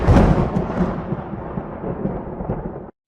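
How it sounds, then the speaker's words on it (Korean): A thunder sound effect in a narrated Korean folk tale crashes loudly at first, then rolls and rumbles steadily for about three seconds before cutting off abruptly, with no speech over it. "하늘이 노했는지 마른 하늘에 천둥 소리가 벼락처럼 내리꽂혔습니다"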